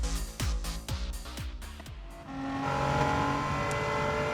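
A Nissan Fairlady engine in Gran Turismo 7 blips through rapid downshifts with sharp revving pops, then settles into a sustained loud drone as the car accelerates out of the corner.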